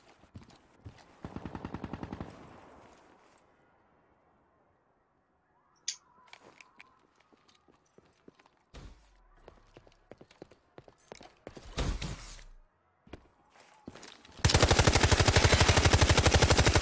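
Gunfire in the online shooter Black Ops III during a hardcore deathmatch on the Breach map: scattered sharp single shots and short bursts, then a loud sustained rapid burst at the end, between quiet gaps.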